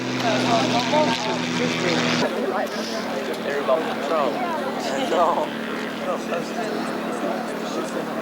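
RF4 light aircraft passing at an airshow: a steady propeller engine drone that drops away abruptly partway through, beneath a commentator talking throughout.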